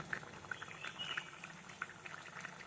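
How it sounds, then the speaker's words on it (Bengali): Egg curry simmers in a pot, with a soft, steady bubbling and small irregular pops that stay close but faint, and no talk. "গরম গরম ফুটতেছে, আর একটু ফুটলেই নামিয়ে দেবো"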